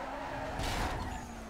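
A Lotus Elise in Need for Speed Most Wanted slides sideways, its tires skidding with a continuous screech over the steady engine drone, loud and close.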